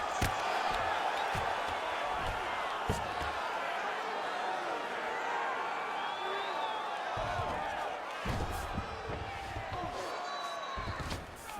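Arena crowd at a UFC women's fight reacts to a strike from the fighter on the bottom in full guard, a steady roar of murmuring and cheering throughout with a commentator talking over it and a few sharp thumps.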